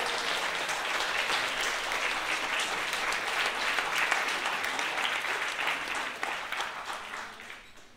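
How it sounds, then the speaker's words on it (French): A round of applause for Claire from a French-speaking audience: dense, lively clapping from many hands, sustained at an even level, then tapering off over the last couple of seconds. "j'aimerais une salve d'applaudissements pour Claire"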